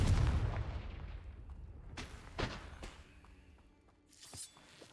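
A Confringo fire spell explodes in the Hogwarts Legacy video game with a loud booming blast that decays over about two seconds, then smaller crackling impacts and a final burst follow.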